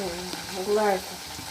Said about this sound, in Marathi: इथे वाऱ्यापैकी गरम झालेलं आहे मिरच्या जास्त तेल नाही ठेवायचं आहे नाहीतर ते फुटतात ना